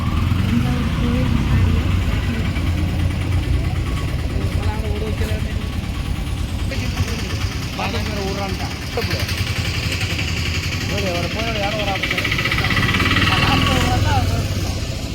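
An auto rickshaw's small motor engine drones steadily throughout while riding in Thanjavur, with traffic noise around and voices talking over it.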